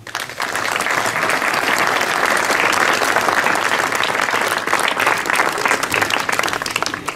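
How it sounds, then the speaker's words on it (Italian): Audience applause for schoolchildren at a centenary plaque ceremony in Italy, a dense, sustained wash of clapping that swells in after a moment and holds steady throughout. "io per la scuola di Pavia chiederei un applauso"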